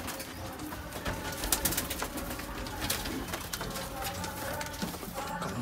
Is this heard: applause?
no